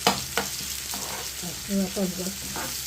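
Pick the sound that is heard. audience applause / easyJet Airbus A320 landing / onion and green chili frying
onion and green chili frying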